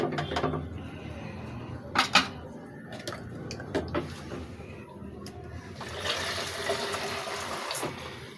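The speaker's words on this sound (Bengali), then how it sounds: "আর একটু পানি দাও।" Water is poured into a cooking pot of eggplant, potato and dried-fish curry, partly rinsed from a spice-paste container. Clinks and a splashing trickle come first, then a fuller, steady pouring rush near the end, with faint voices in the background.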